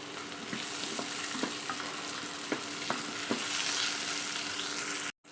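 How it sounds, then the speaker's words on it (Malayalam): Onions sautéing in a pan for an egg curry: a continuous close sizzle broken by scattered clicks of a spatula stirring, with no voices. "നമ്മുടെ സബോളയൊക്കെ ഒന്ന് വഴണ്ട് വന്നിട്ടുണ്ട്"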